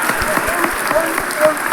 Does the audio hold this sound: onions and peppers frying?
no